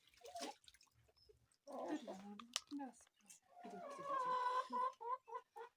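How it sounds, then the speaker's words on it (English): Chickens cluck close by in an African village during outdoor cooking, short broken bursts of clucks rising near the end, with a person talking between them. "the chickens are here. They're just disturbing."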